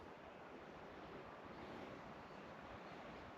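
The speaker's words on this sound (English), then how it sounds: "There's a creek down in the bottom too. You can hear it, but we can't see it." Creek flowing through bushland on a Perth trail, a soft, steady rushing wash of water heard from a distance, faint and unbroken.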